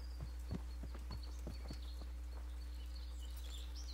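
Horse hooves walking in the medieval video game Kingdom Come: Deliverance, a quiet, slightly irregular clip-clop of about ten steps over a low steady hum, with faint bird chirps in the background.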